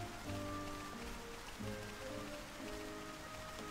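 Steady video game rain patters across a surface in Xenoblade Chronicles: Definitive Edition, with faint tonal hums and soft game-like tones threading through the continuous downpour.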